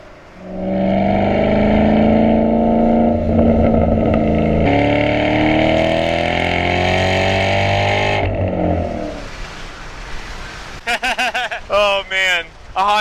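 2011 Ford Shelby GT500 V8 engine revving hard under throttle, a loud sustained roar with rising pitch for about eight seconds, then easing off as a voice talks over the tail end.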